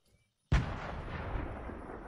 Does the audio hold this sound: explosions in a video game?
yes